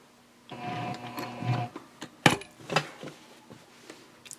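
A sewing machine stitches across handbag fabric in a short burst, then stops, followed by sharp clicks and taps from handling the machine, close and fairly quiet.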